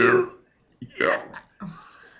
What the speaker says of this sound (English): Let's see if I can do my biggest burp of them all.